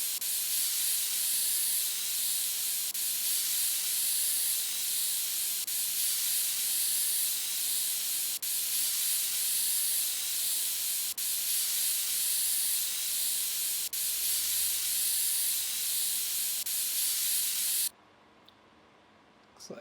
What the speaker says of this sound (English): blow it out with compressed air